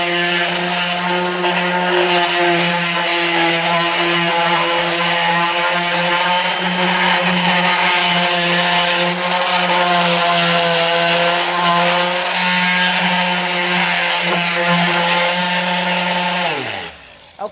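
An electric sander works wood while a desk is built for an office remodel, a loud, steady motor whine with a rough, buzzing texture that runs continuously up close before winding down at the end.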